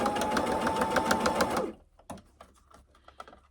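A sewing machine runs a quick, even stitching rhythm through a quilted, padded zipper tablet bag for under two seconds, then stops, followed by a few faint clicks and handling sounds.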